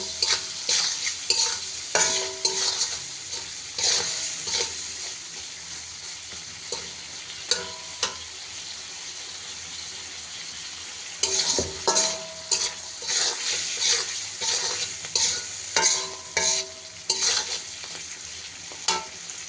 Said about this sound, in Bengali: এই মাছগুলো এখানে ভালো করে মশলাটার সাথে একটু কষায় নেব